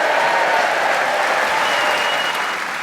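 A keen theatre audience at the Theatre Royal in Brighton applauds and cheers, a loud, dense crowd clapping that holds steady and tapers slightly at the end.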